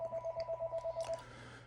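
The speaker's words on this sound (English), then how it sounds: "that phone's ringing" A telephone rings in a fast, steady electronic warble of about ten even pulses, faint and alone, stopping abruptly.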